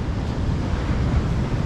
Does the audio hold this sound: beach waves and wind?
yes